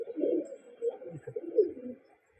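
Pigeons of the Madrasi and Giribaj breeds coo softly up close, a few low throaty burbling phrases that fade out into quiet.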